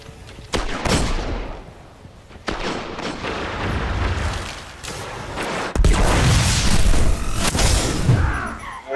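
A Destiny fusion rifle fires in several loud charged bursts, each a sharp crack followed by a roaring blast, with heavy gunfire and booms layered throughout.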